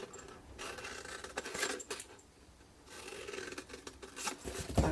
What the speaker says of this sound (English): And then just simply cut these straight up.